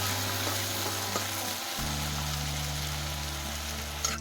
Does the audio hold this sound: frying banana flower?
yes